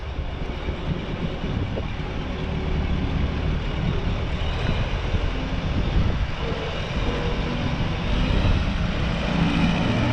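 A large combine harvester, an MF 487, drives close by in a field, its engine giving a loud, steady broadband rumble and drone that holds evenly throughout.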